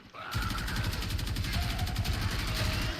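Heavy gunner enemies in the video game Warframe firing machine guns, a steady, dense, fast stream of shots lasting throughout, loud and close with no talking.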